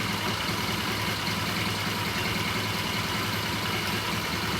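A 1978 Triumph motorcycle, painted blue, idles steadily after starting on the first kick after sitting overnight, with a constant low engine rumble and broad hiss throughout and no talking.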